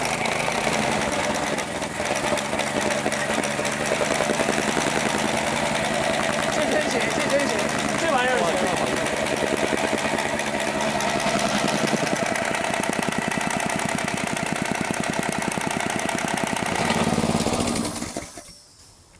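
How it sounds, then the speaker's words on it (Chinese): A small engine on a farm machine revs loudly and continuously as the throttle is opened, a buzzing, rattling drone that holds steady before cutting off near the end, with people talking over it. "加大油门试试的时候"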